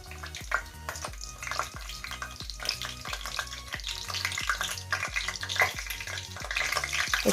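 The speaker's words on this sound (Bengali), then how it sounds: "দিয়ে আমি কয়েক সেকেন্ড একটু 4-5 সেকেন্ডের মতন একটু ভেজে নিব, জাস্ট একটু ফ্লেভার আসার জন্য" Spices frying in a pan for a spicy chicken and cabbage dish: a loud, dense, crackling sizzle running steadily, with a low rhythmic thumping underneath and no voices.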